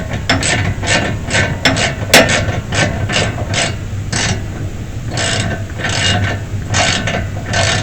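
A bolt being tightened on a Rock Krawler tie rod, heard as a close series of ratcheting clicks and metallic rubbing strokes in steady bursts, with no talking.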